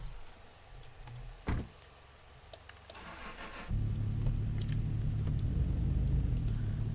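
A Konig car in the game Mon Bazou idles at low rumble, gives a brief clunk, then the engine note rises into a steady, louder drone as the car is reversed into a parking spot, with no one speaking.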